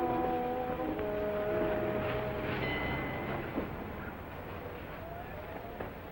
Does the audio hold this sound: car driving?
yes